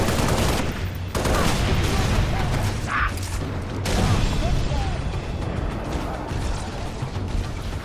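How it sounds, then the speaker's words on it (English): Assault rifle fire in the Halo Reach video game, a loud, dense, continuous stream of automatic shots mixed with explosions and battle noise that runs the whole time. "so for them I switched back to the assault rifle."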